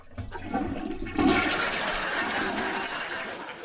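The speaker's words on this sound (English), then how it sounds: "I'm sorry I couldn't hear you over the toilet flushing" A toilet flushes in a sitcom scene, a loud continuous rush and swirl of water that swells after a second and keeps running steadily.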